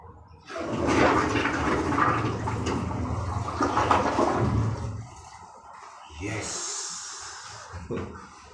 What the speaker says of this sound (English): We hear the toilet flush right now.